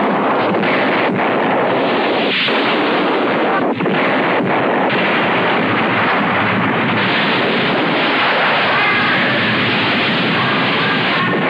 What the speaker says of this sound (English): You are looking at almost 1 million gallons of water rushing by 5 cameras.